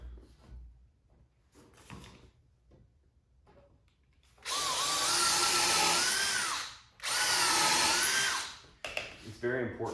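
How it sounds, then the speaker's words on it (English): A power drill bores straight through pine board in two loud sustained bursts, each several seconds long with a short pause between, following a quieter stretch of faint handling noise. "We're gonna drill 2 holes straight through."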